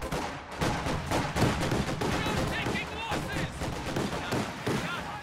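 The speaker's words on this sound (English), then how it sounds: "Sturm Pioneers firing from inside the church." Dense gunfire from Sturm Pioneers shooting out of a church in a World War II strategy game, rapid overlapping rifle and machine-gun bursts with loud cracks packed continuously throughout, mixed with battle noise and some voices.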